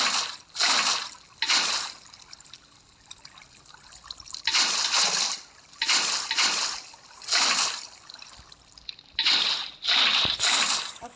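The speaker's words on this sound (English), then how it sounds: "After we're done filling the water, at one side." Water pouring in a building game as a swimming pool is filled, heard as a series of separate splashy gushes, each lasting about a second, with short quiet gaps between them.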